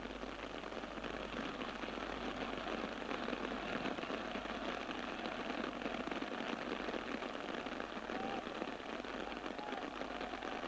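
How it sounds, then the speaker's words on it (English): Heavy rain pouring down at an English football match between AFC Bournemouth and Blackburn Rovers in 1989–90, a steady, dense hiss of downpour filling the whole stretch at moderate level with no clear speech. "The rain absolutely bucketing down here at the moment."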